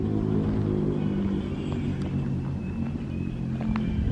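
A motorbike passes on a mountain road at Tam Đảo, Vietnam, beside a shaded roadside rest spot; a steady engine rumble holds throughout, with a few faint clicks and a thin high whine as the machine rolls by.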